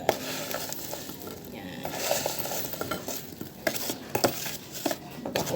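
French fries frying in a pan, with steady sizzling and scattered clinks and scrapes of stirring against cookware, close up and continuous.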